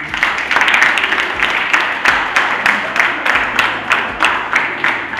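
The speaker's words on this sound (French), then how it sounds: "Et applaudissez-vous" Audience applause at a DELF certificate handout ceremony, a steady crowd of clapping hands lasting several seconds with individual claps standing out near the front.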